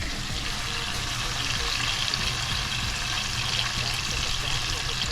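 Butter and garlic sizzle in a pan used for steak, giving a loud, steady crackling hiss that holds without a break.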